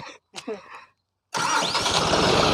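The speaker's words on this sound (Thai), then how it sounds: "นี่เสียงสตาร์กันนิ่มๆครับ" Brief muffled talk, a pause, then a diesel tractor engine cranks softly and catches, settling into a loud, steady rumbling idle close by.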